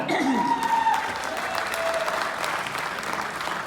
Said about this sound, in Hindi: एक बार आप सब जरा एक बार जोरदार ताली